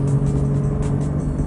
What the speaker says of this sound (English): This car's been modified with a Flowmaster.